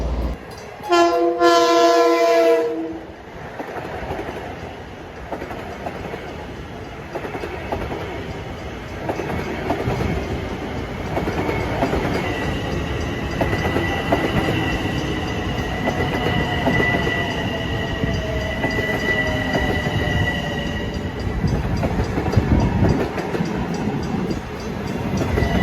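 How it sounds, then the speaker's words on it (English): LIRR electric commuter train bound for Ronkonkoma pulling into Farmingdale station, a short horn blast followed by a rising electric motor whine and rolling wheel rumble as it slows alongside the platform. "train 1960, bound for Ronkonkoma, coming into the station at Farmingdale"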